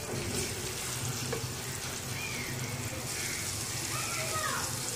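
Ginger and garlic paste fries in a pan with a steady, even sizzling hiss that holds at the same level from start to finish.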